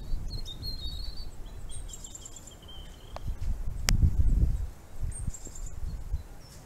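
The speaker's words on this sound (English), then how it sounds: "those sounds are quite loud, and they're chirpy, lots of noise" Birds chirp and tweet in bright, quick bursts over a low outdoor rumble, with one louder whistle partway through; no one speaks.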